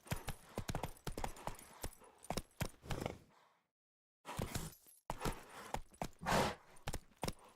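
Roach, the horse in The Witcher 3 video game, trotting with rapid rhythmic clip-clop hoofbeats, close and steady, briefly stopping before resuming.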